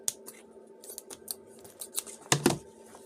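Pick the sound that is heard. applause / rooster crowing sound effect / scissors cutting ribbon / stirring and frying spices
scissors cutting ribbon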